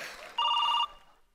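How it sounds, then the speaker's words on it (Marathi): A telephone rings once with a short electronic trill, an even half-second burst that stands out clearly against quiet room noise. "फोन आला."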